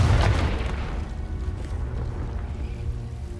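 Confringo fire spell explosion in the video game Hogwarts Legacy, a single loud boom at the start that decays into a lingering rumbling tail.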